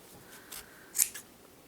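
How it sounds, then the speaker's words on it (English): Scissors snip through crocheted yarn loops for a pom-pom, giving a few quiet, close clicks with one sharper cut in the middle. "What you're going to do is put your scissors in the loops and clip."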